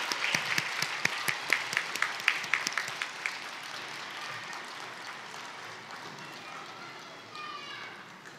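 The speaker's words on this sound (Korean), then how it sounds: "우리 아이들 내려갈 때까지 다시 한번 뜨거운 박수 부탁드립니다." A church congregation applauds warmly as the children leave the front, brisk clapping that starts strong and gradually thins and fades away.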